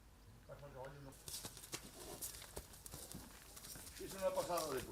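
An Anglo-Arab horse walks past on a breeding farm, its hooves clip-clopping in an irregular series of close knocks. Birds call and people talk in the background.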